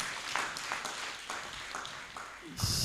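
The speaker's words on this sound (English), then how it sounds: "let's give a better hand clap for her" An audience at a live-streamed project event claps for a presenter, a moderate spread of hand claps blended with background voices, with louder noise near the end.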